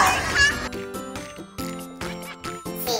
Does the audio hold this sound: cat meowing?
yes